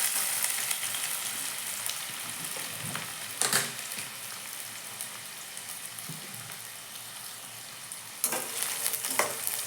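Cumin and mustard seeds crackle and sizzle in hot oil in a steady hiss, with occasional louder pops and spatters rising above the frying.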